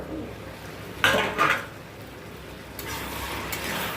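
A lid comes off a pot of Malabar spinach cooking with rohu fish head: two close metallic clanks in quick succession, then a quieter sizzle and a soft rattle.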